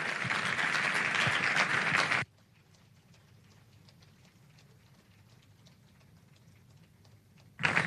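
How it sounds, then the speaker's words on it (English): Conference audience at an economic summit gives loud, dense applause that stops abruptly after about two seconds, leaving a quiet room hum before clapping bursts in again at the end. "Let's keep clapping."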